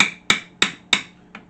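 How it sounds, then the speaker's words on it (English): A hammer taps on a drift punch to knock out a part of a table saw, five sharp metallic strikes at an even pace, close and clear, the last one lighter. "Be a couple taps for the drift and it'll come out hopefully."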